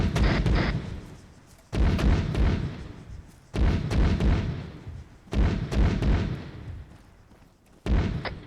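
Grenade blasts go off during a team training exercise, four heavy booms spaced about two seconds apart, each a sharp loud onset that rolls off into a long rumbling decay.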